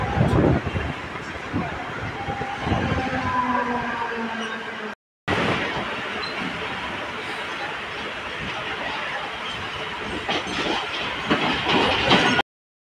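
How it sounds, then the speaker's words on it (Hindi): A Mumbai local train heading toward Dadar rumbles steadily with a rolling clatter and wind rush, loud and continuous, with a brief break and faint voices underneath. "ट्रेन चल पड़ी है।"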